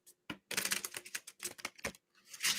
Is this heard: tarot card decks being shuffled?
yes